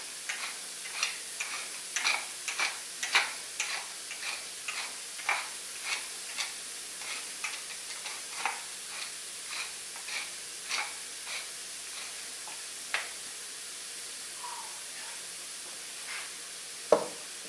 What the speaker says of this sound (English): I just love fresh ground black pepper hitting that heat